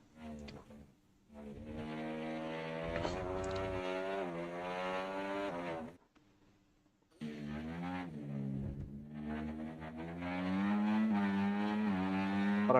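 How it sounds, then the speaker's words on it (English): Onboard engine roar from a racing car in the Fusion Racing League video game, a loud sustained revving drone with rising pitch sweeps, briefly dropping out before roaring back. "You hear that engine roaring."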